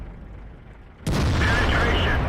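A single heavy tank cannon shot in World of Tanks, from a T34, booms abruptly after near silence and rumbles on loudly with a lingering blast tail.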